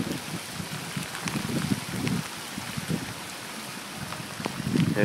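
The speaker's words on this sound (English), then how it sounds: "Rain started at 5 o'clock yesterday, and it's been intermittent ever since. But now it's getting consistent." Steady rain from Hurricane Sandy in Philadelphia pours down with continuous patter and splashing, a dense wet wash of drops with no voices.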